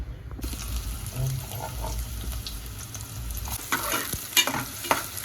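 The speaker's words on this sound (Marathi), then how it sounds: "हे कोकोनट ऑइल आहे ना? कांदा टाकायचा." Onion frying in coconut oil for a Karwar-style Konkani fish curry, a continuous sizzle with stirring scrapes in a home kitchen, growing busier with clatters toward the end.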